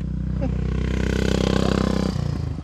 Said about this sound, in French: On a une moto vintage qui vient de passer